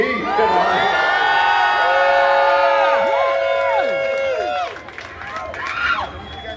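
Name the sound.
crowd cheering at Hollywood Walk of Fame ceremony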